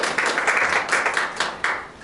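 Audience clapping for candidates at a seniors' forum, a steady patter of many hands that swells in waves and rises sharply near the end, filling the room without talk.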